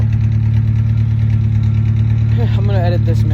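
A car engine idles steadily through a newly fitted exhaust tip, a loud, even low rumble that continues throughout, while a person speaks briefly over it near the end.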